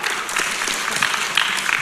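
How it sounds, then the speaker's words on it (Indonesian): An audience applauds at a provincial final of a Four Pillars quiz competition in Central Java, a dense, steady wash of clapping from many hands that continues evenly for the whole moment. "Boleh kita berikan tepuk tangan untuk grup B?"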